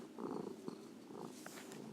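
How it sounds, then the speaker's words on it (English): A cat purrs close by in a low, steady rumble that swells and eases with each breath, continuing without pause. "my cat is laying right here, and you can hear her purr"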